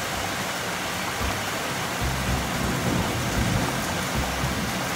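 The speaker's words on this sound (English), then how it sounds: "Like you can literally hear it raining." Steady rain pours down outdoors with low rumbling thunder rolling underneath, continuous and enveloping.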